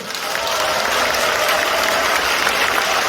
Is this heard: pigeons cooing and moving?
no